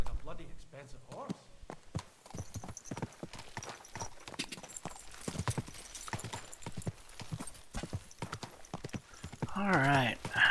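Horse hooves clip-clop steadily in the medieval role-playing game Kingdom Come: Deliverance II, the fairly close, rhythmic footfalls running through most of the stretch under spoken dialogue, with a horse's whinny rising near the end.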